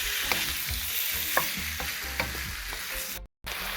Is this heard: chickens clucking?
no